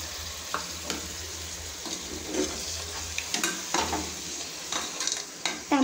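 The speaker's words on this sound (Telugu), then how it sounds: "అయితే మనం టమాటో వేసుకుందాము కర్రీలో." Spoon stirring tomato into a mutton curry in a pan, with soft scraping strokes over a low sizzle, close and moderately quiet, no talking.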